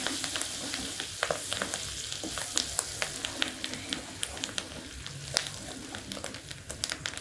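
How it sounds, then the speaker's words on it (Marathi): Curry leaves sizzle in a tomato pickle tempering, bright crackling pops spattering irregularly over a quiet frying hiss, close and fairly soft. "ह्यातच कढीपत्ता बी टाकते"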